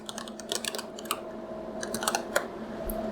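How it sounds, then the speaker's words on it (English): Rapid, uneven clicks of fingers typing on a computer keyboard, close and fairly soft, in short bursts over a faint steady background hum. "so I'm going to type that in."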